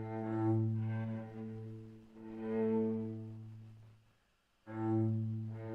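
A cello ensemble from the Osmosis sample library, heard through the close microphone only, plays sustained low bowed notes that swell and fade, drop almost to silence, then return.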